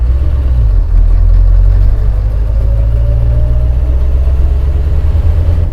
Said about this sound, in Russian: Редуктор сзади издает необычные звуки